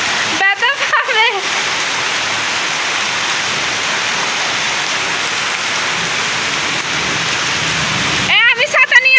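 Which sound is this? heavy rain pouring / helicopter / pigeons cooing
heavy rain pouring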